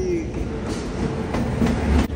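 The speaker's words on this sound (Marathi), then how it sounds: "फायनली या ठिकाणी आता ट्रेन आलेली आमची." A train pulls into a station platform in India, its rumbling and clattering wheels steady and fairly loud, with a couple of brief squeals and crowd noise in the background.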